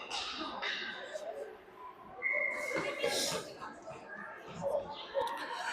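A sharp referee whistle blast at a hockey game cuts through a noisy arena crowd, brief and bright, amid chatter and children's voices.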